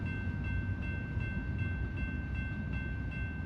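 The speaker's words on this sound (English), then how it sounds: "That train is really loud." A train passes close by, giving off a loud, steady rumble and roar throughout with faint rhythmic clatter and a sustained high tonal whine, and no talking over it.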